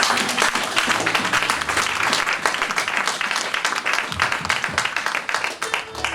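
A church congregation applauds in praise, dense continuous clapping that stays loud and steady throughout, with a few voices faintly mixed into the crowd.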